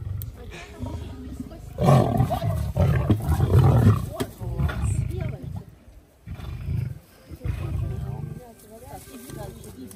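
Lions roar in the wild, heavy rumbling roars rising and falling through the whole stretch, loud and close with people talking beneath.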